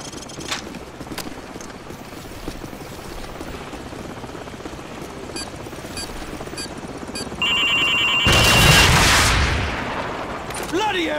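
Helicopter in the video game Call of Duty Modern Warfare, a steady rotor thrum running throughout with scattered gunfire cracks, swelling into a louder roaring burst near the end.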